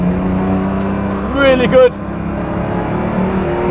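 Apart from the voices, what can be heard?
510bhp BMW M2 Competition engine revving on track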